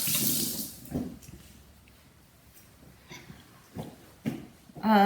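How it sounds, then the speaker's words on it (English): A knife rinsed under a running kitchen tap, with a splashing rush of water at the start, then quieter trickles and intermittent bursts of flow nearby, and no talking. "Rinse this off."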